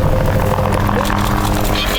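A helicopter hovers overhead during an elephant capture operation, its steady rotor thrum loud and continuous beneath a voice talking.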